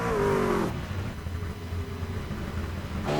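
A Toyota Tundra race truck's engine revs hard and pulls away out of pit lane in a racing game, a loud rising whine that drops to a steady mid-pitched drone before another revving surge, with no talking.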